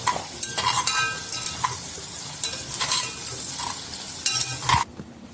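Onions frying in a pan for pepper chicken, stirred with a utensil in several scraping bursts over a steady close sizzle, with no talk.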